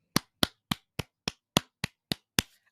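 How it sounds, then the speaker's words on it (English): One person claps their hands nine times in a steady, evenly spaced rhythm. Each clap is sharp, close and dry, with silence between and no other sound. "Let's see if I can clap."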